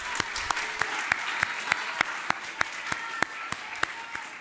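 A room of people applauds 5th graders at a kid governor inauguration event, steady crowd clapping with distinct sharp individual claps punctuating it at a regular rhythm.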